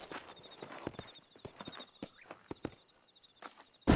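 Horse hooves clip-clop in the Red Dead Redemption video game, a quiet run of irregular hoof strikes on the ground with no voices.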